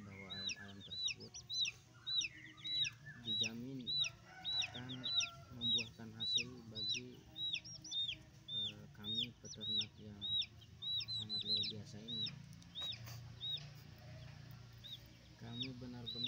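Chickens cluck repeatedly close by in a busy, rhythmic chorus, while someone talks over them throughout.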